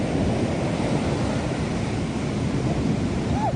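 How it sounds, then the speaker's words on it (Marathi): Sea waves at Devgad beach break and wash in a steady, loud, broadband roar with constant rumble, likely with some wind on the microphone, and no voices. "केवढ्या वर लाट इली ना हे बघा आता कसं हो समुद्र आता ना खवळलेलंच असतं"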